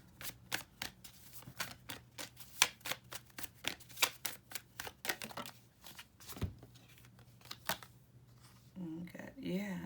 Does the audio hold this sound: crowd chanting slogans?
no